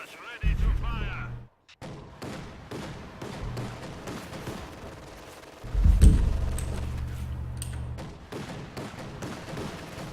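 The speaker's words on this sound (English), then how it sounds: "Incendiary artillery barrage ready to fire." Incendiary artillery barrage in Company of Heroes 2, heavy booming shell impacts and rumbling blasts at irregular intervals, with one especially loud nearby hit midway and lighter crackling reports between.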